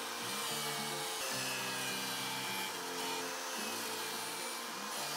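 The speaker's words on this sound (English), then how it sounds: "Then it's just a matter of adjusting and cutting all the shelf slots on both sides." A power saw cuts shelf slots in wood, giving a steady buzzing rasp in repeated passes with short breaks between cuts, close and loud with no talking.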